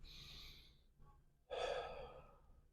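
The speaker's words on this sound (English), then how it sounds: "Breathe in." A single deep breath is drawn in audibly close to the microphone after a softer exhale, the inhale a strong airy rush lasting about a second.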